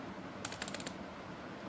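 Keystrokes on a computer keyboard while entering text in Microsoft Word, a quick run of about six or seven crisp clicks over a low room hum, with no talking.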